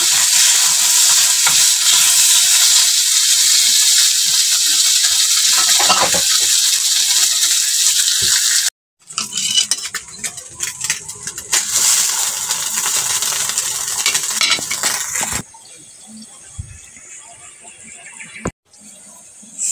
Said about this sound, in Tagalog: luto ng ating langgonisa at saka hotdog